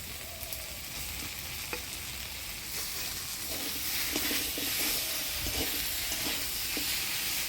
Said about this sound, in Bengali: সোয়াবিন দিয়ে ভালো করে নাড়াচাড়া করে নিলাম